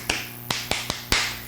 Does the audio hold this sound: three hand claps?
yes